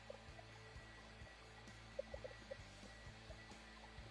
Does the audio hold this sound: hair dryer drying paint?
yes